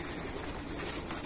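Pigeons coo softly in a brief, low murmur against steady background noise, with a couple of faint higher chirps.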